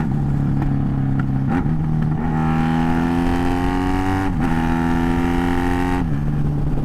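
A Honda Magna motorcycle engine chugs loudly and close in low gear, a deep steady throb that rises in pitch as it builds revs, with brief drops at gear shifts.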